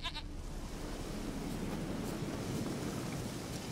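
A goat in The Witcher 3 bleats once near the start, its call set against a steady wash of wind and surf-like ambience that runs throughout.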